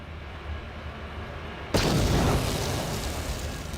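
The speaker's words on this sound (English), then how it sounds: "Oh, frag grenade." A frag grenade in Star Wars: Knights of the Old Republic goes off with a single loud, sudden blast partway through, after a quieter stretch, followed by a broad roar that slowly fades.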